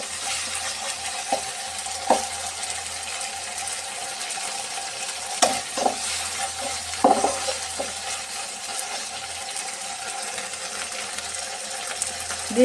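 Ground onion and cumin paste fries gently in a pan with a soft, steady sizzle, broken by a few scraping stirs of a spoon.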